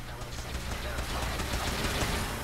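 Rapid gunfire in Fallout 4 combat against a synth enemy, a fast dense stream of shots that grows slightly louder toward the end, heard fairly close with no talk over it.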